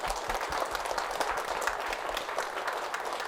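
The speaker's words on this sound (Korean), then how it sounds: "우리 다 함께 칩시다" The gathering at a Buddhist temple memorial service and abbot installation ceremony applauds together, a moderate, even patter of many hands clapping, sustained and somewhat distant throughout.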